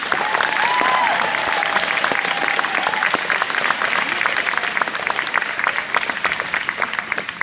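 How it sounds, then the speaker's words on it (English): Sustained applause from a school graduation audience honouring parents and families, a dense, steady roar of many hands clapping that fills the whole stretch at full volume. "Let's give our parents and families a round of applause."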